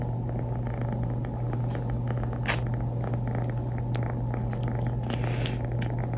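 A cat purrs continuously and close up, a steady low rumbling hum during cuddles in bed, with faint rustling over it and no speech.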